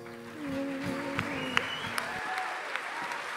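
Audience applause at a French graduation diploma ceremony, a dense steady clapping from a crowd with a few sharper individual claps, while music plays underneath at first and then drops away.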